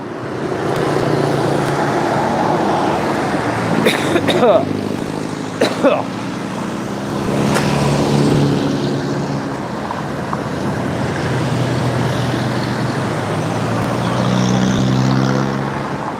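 Steady road traffic rumbles past on a street in Phayao, Thailand, with vehicles passing nearby one after another and a continuous engine drone filling the scene.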